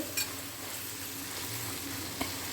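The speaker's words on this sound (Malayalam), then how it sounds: "ഇനി നന്നായിട്ട് നമ്മൾ അങ്ങനെ ഇളക്കി കൊടുക്കണം അടി പിടിക്കാണ്ട്" Beef frying in a pan for Thrissur-style beef, stirred so it does not stick, giving a steady close sizzle with a couple of brief scrapes.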